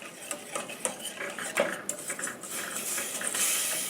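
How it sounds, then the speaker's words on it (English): Cocoa being whisked into a cookie mixture of sugar and cocoa in a pot, with quick metallic clinks and scrapes of the whisk against the pot, close and fairly quiet, no talking. "And the cocoa, and I'm just gonna whisk that all together."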